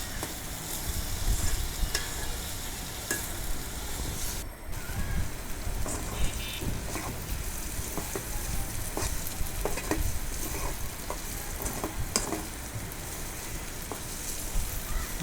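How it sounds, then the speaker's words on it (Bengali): Garlic and onion fry in oil in a pan, stirred steadily for a Bengali shrimp bharta; a constant close sizzle carries the scrape and clatter of stirring throughout, with no voices. "রসুন পেঁয়াজ দিয়ে ভালো করে নেড়ে চেড়ে"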